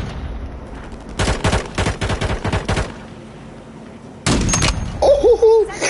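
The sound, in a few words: sniper gunfire in Warzone video game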